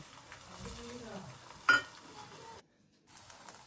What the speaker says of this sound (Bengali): ফ্রাই প্যানে তেল দিয়ে দিয়েছি। এবার আমি ডিমটা ঢেলে দিলাম।